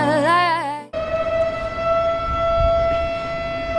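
A loud, sustained horn blast from a cruise ship heading down from the Delta toward Sacramento, opening with a wavering tone that settles into one long steady note. It sounds nearby and carries on for several seconds, with no voices over it.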